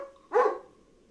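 A single short, sharp dog bark in the video game Lost: Via Domus, close and moderately loud against a quiet background with no talk.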